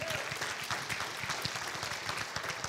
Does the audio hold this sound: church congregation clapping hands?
yes